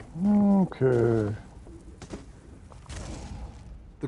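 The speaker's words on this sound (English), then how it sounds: "The crows serve as Nocturnal's eyes." Birds call out in the Elder Scrolls Online video game, a couple of loud, close croaking calls at the start followed by quieter rustling and a faint voice.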